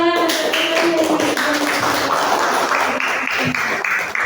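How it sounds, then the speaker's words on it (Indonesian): Classroom audience clapping after a group presentation, a dense wash of many hands applauding steadily for several seconds, close and loud. "Tepuk tangan"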